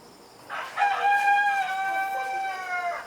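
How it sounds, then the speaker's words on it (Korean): A rooster crows once at a countryside retreat in Yeongam, South Korea: a single drawn-out, fairly close cock-a-doodle-doo of about two seconds over quiet background, with no talking. "닭 울음소리가 정겨운 이곳은"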